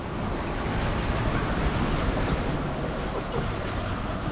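A sailing boat reaches across waves on the way from Island Head Creek to Middle Percy Island, with continuous rushing water and heavy wind buffeting the microphone, loud and unbroken throughout.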